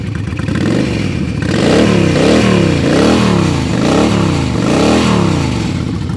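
A Honda Shadow V-twin motorcycle engine revs repeatedly up and down, loud and close, with a rhythmic pulsing rise and fall about once a second, heard alone without talk.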